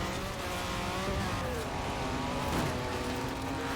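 A Lamborghini racing in Forza Horizon 4, its engine droning loud and continuous with shifting pitch as it accelerates, tire and road noise blended underneath and no clear gaps.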